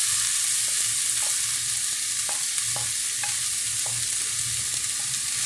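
Salt cod sizzles steadily in a frying pan with tomato, a constant close crackle and hiss, with soft scraping and tapping as a utensil stirs it now and then.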